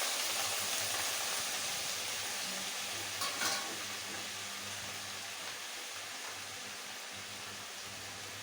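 Cabbage, potato and tomato stir-fry in hot oil with five-spice seeds, giving a steady close hiss of sizzling throughout, with a brief clatter of stirring partway through and no talking.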